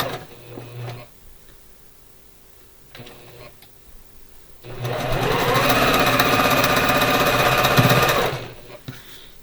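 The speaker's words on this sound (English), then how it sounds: "So I'm going to sew 1/4 inch down the side here." A sewing machine stitches a quarter-inch seam on a spring quilt block. A few soft handling clicks come first, then a loud, steady, close mechanical whir runs for several seconds and stops.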